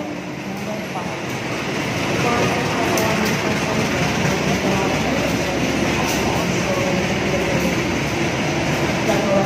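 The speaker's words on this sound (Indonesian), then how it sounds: "Ini keretanya udah datang Pasundan" KA Pasundan economy-class passenger train pulling into a station, a steady loud broadband rumble and hiss of rolling cars that swells slightly and holds, with people talking over it.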